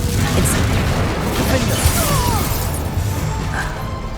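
A Confringo blasting spell in Hogwarts Legacy explodes with a loud, rumbling crash, then scattered crackles and pops as the roar slowly fades, with faint magical whooshes mixed in.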